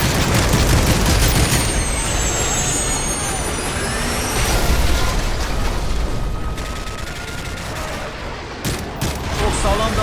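Call of Duty Modern Warfare 3 battle in Berlin against a T-90 tank: a loud, continuous barrage of rocket fire, gunfire and booming explosions with whistling projectiles, dense and close throughout.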